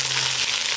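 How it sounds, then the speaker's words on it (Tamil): Onions tipped into hot oil already crackling with fennel seeds and bay leaf, a steady bright frying sizzle with a faint low hum beneath, continuous and close. "எண்ணெய் சூடாயிடுச்சு நான் சோம்பும் பிரிஞ்சி இலையும் போட்டு தாளிச்சேன் இப்போ வெங்காயத்தை சேர்த்துக்கலாம்"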